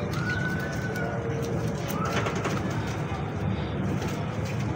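Golden pigeons cooing among other birds, with steady busy background noise throughout and faint calls rising above it.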